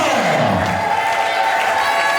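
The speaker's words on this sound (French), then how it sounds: "Est-ce qu'on peut applaudir très très fort?" Wedding guests cheer and applaud, a crowd roar mixed with whoops and scattered clapping, held at a steady level over a tonal background.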